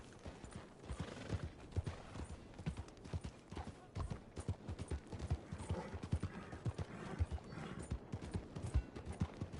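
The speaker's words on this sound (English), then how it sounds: "Come along, horsey." Horse hooves clip-clop at a steady walking rhythm in Red Dead Redemption 2, close and fairly quiet, with faint tack and gear jingles mixed in.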